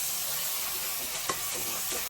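Curry leaves, coriander and mint sauté in a pan with yogurt-spiced masala for prawn biriyani, a steady close sizzle with a single clink of a stirring spoon partway through.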